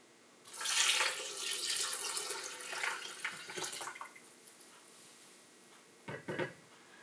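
Cold water splashes as it is poured into a container of oats for making oat milk, a steady pour lasting a few seconds, then a brief second splash after a pause.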